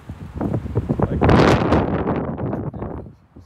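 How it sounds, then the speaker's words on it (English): Strong gusts buffet a microphone outdoors at a Las Vegas house, roaring and thumping in uneven bursts that peak in the middle before easing off, with no clear talk over it. "Oh my God, it's so windy."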